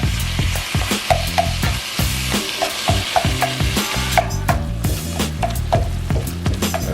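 Meat for super stuffed shells browns in a hot pan, a steady close sizzle broken by repeated scraping and stirring strokes, with no one speaking.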